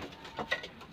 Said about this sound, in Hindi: इसकी कबूतरी यहाँ पर बैठी हुई है